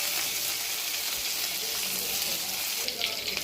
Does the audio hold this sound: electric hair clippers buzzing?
no